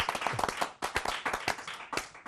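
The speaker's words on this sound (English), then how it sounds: "Round of applause, yes." A small group claps in scattered, uneven bursts after singing happy birthday during a Chelsea football fan podcast, with the claps close, sharp and fairly loud, briefly dipping before picking up again.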